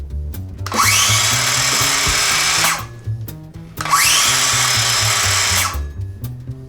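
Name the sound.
power saw running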